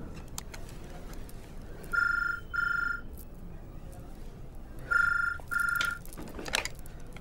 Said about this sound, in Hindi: आपका फोन जी।